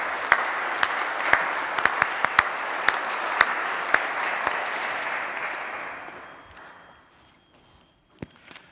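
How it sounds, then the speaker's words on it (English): A room full of people at a religious profession ceremony applauds steadily for several seconds, with a few sharper claps standing out, before the clapping fades away into near silence. "Capuchins customarily applaud."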